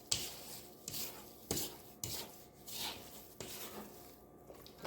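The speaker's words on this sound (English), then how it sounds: "I'm just going to scrape at the bottom of my bowl." A spatula scrapes around the bottom of a mixing bowl of cranberry bliss bar batter, giving repeated rasping strokes with sharp onsets roughly every half second, close and fairly loud, with no talking.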